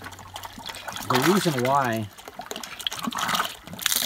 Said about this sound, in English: it took four or five pumps in order to get water